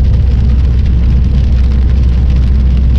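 Steady rain falls during a countryside ride, a dense, constant hiss of drops with a low rumble underneath that could be a vehicle, loud and close throughout with no talking.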